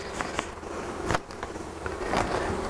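A swarm of honey bees buzzes around an open hive, a close, continuous insect drone with occasional louder passes of individual bees flying near.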